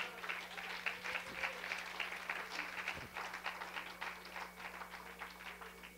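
Church congregation at a prayer service applauds, a steady wash of many hands clapping heard from a distance, fairly quiet and even throughout under a low electrical hum.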